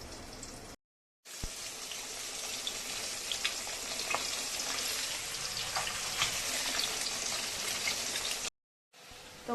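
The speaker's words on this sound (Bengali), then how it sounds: "কারকল ভাজাটা বসাই দিছি, এখন একটু ঢেকে দিব" Sliced bitter gourd (karela) fries in a pan with a steady, soft sizzle that carries on evenly, broken only by two brief silent gaps.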